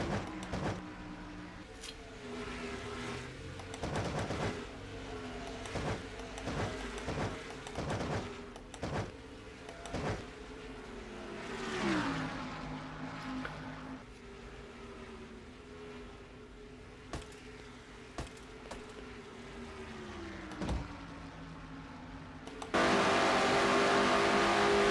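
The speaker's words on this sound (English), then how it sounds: "Riding inside Cole Deaver's car." A race car engine in a sim racing game run at the Brickyard 400, droning steadily with pitch rising and dropping through gear changes and sharp transient knocks, continuous and fairly loud, ending in a burst of harsher noise.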